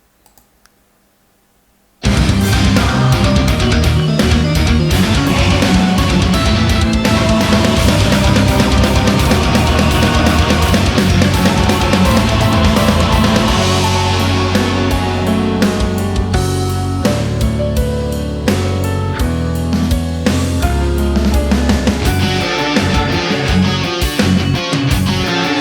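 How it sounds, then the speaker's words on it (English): After a brief silence, a song from a debut EP bursts in loudly with organ and choir over a dense, full arrangement that plays continuously to the end. "So a little bit more, organ, choir, and so on."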